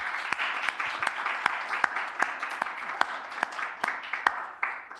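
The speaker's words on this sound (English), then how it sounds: "let's give Nate a round of applause" A small group gives a guest a round of applause after an online talk, sparse distinct claps with a few sharp louder hits, fairly close.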